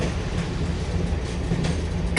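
A train rolls steadily along in the video game Dark Cloud 2, a loud, continuous low rumble with rhythmic rail clatter that holds without a break.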